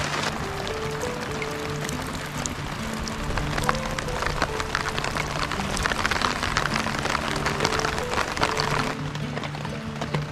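Light rain falls on a campsite with a tarp shelter, a steady soft patter of drops running continuously throughout, with a faint low hum underneath.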